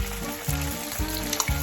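Jarred piquillo pepper slices hit hot oil in a frying pan, a loud continuous sizzle with rhythmic bursts as more slices drop in, close and without speech.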